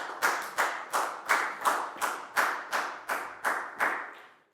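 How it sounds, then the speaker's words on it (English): Nearly a dozen sharp hand claps fall in a steady rhythm, close and fairly loud, in a Year 4 classroom. A single person claps with no crowd. "High five and a big round of applause for Prau, please, guys."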